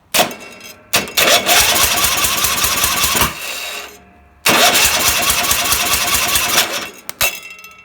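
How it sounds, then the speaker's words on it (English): A small lawn mower engine on a racing mower, with no exhaust valve movement, cranks over with an electric starter in two long, loud whirring bursts separated by a brief pause, rapid rhythmic chugging but not catching. "I'm gonna crank this thing over electrically"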